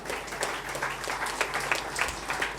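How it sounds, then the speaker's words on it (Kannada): Applause for participants at a Karkala taluk Chitpavan community felicitation and talent award event: steady, dense clapping from a sizable crowd at moderate distance, continuous throughout with no talk. "ಎಲ್ಲರಿಗೊಂದು ಪಾರ್ಟಿಸಿಪೆಂಟ್ಸ್ಗೆ ಎಲ್ಲರಿಗೆ ಜೋರಾದ ಚಪ್ಪಾಳೆ"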